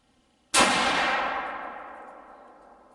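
A single loud rifle shot fired outdoors while zeroing, a sharp sudden crack followed by a long ringing, slowly decaying tail, with no talk.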